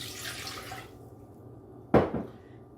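Water pours into a pot of basting sauce for ribs in a short, splashy burst that quickly tapers off, heard close after a few seconds of soft kitchen hiss.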